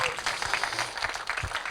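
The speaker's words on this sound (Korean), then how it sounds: "박수 좀 부탁드리겠습니다." An audience at a gala show applauds in a short, steady burst of clapping, with a voice briefly audible underneath.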